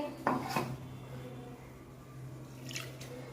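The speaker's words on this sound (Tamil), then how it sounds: "ஜாரை கொஞ்சம் கழுவி விட்டுக்கலாம்" Quiet kitchen clatter from rinsing a mixer jar, with two sharp clinks of the jar near the start and a softer knock later over a low background hum.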